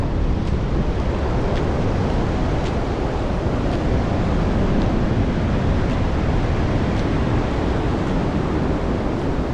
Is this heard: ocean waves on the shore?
yes